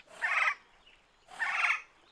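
Oryctodromeus dinosaur calling in the game Beasts of Bermuda, two bright chirping, gobble-like bursts about a second apart, fairly close and alone with no talk.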